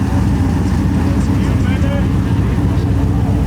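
A drag racing car makes a pass at a drag strip, a loud, steady, low engine roar filling the whole stretch without letting up.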